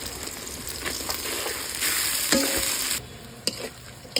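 Chopped onions and green chilies frying in hot oil for a village-style prawn bhuna, a steady close sizzle with scraping stir strokes and a few sharp clinks of the spoon against the pan.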